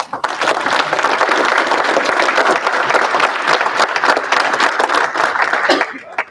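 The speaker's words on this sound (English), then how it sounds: "final round of applause for Logan Hera." Audience applause at a university honors day ceremony: a sustained, dense burst of clapping from a crowd, steady and loud for several seconds before tapering off at the end.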